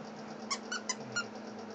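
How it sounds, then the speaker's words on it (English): A dog's squeaky toy gives four short, high squeaks close together, faint and close against a low steady hum in a quiet room. "Make it squeak."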